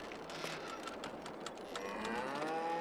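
Cows moo repeatedly inside a farm building for 60 cows in Farming Simulator 22, several overlapping calls sounding close and steady over a constant background hum, with no talking.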